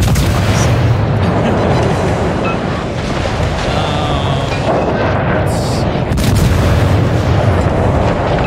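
Warship guns fire in World of Warships, giving heavy, booming rumbles mixed with a loud, continuous roar like wind and surf that fills the whole stretch.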